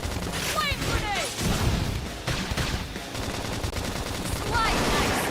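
Gunfire in the Xenoblade Chronicles X: Definitive Edition video game, rapid automatic bursts mixed with game effects and music, dense and continuous, with voices calling out over the shooting.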